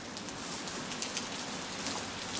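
Steady rain falls at Lake Trafford, a continuous even hiss with no breaks, fairly loud and close, with no voices over it.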